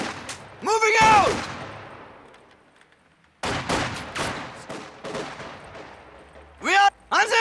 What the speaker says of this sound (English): It's an MG from the side!